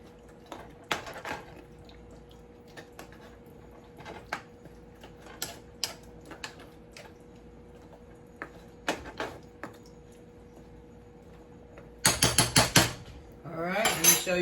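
Neckbone soup being moved around in a pot: sparse, sharp clinks and taps of a utensil against the pot at irregular intervals over near silence, with a louder flurry of scraping clatter near the end.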